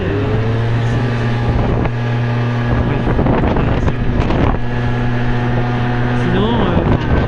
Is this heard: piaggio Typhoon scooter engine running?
yes